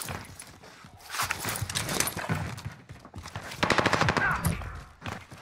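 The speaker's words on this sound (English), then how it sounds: "The guy was shooting at me in roof." Rapid automatic gunfire from a battle royale shooter game in fast, loud bursts over a busy mix of game sound, near and continuous, with no clear talk.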